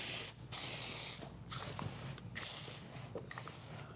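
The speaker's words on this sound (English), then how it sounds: "it just takes a few pumps, and it has a pressure release here" Hand-pumped foam sprayer for a waterless wash being pressurised, a series of about five rhythmic hissing, ratcheting pump strokes, close and fairly quiet, with no talking.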